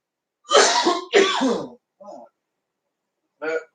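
Two harsh coughs close to the mic, then a small throat-clearing sound and another short cough after a pause.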